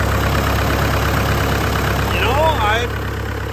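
A Farmall 400 diesel tractor engine with a fuel pressure problem runs at a steady idle, a constant loud low throb with an even rhythm, while someone speaks briefly over it.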